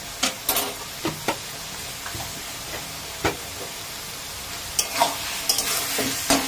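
A pan of katla fish head and taro greens being stirred, with sporadic spoon scrapes and clacks over a low, steady sizzle; no talking.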